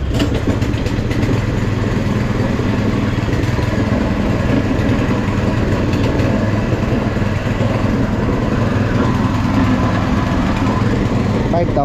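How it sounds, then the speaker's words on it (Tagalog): A cement mixer engine at a small A-frame house construction site runs steadily and loudly without pause, a constant low mechanical drone throughout. "Titingin tayo ng makina na mixer."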